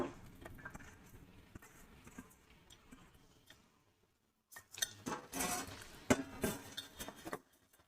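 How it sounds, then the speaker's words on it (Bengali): Raw mutton is mixed by hand with chopped onion and tomato for a Champaran-style mutton handi, heard as soft squelching and rustling close by, a brief pause, then busier, louder wet mixing with occasional clinks of a vessel. "এই যে এটা মেখে নিচ্ছি পেঁয়াজ টমেটো দিয়ে কাঁচা মাংসটা"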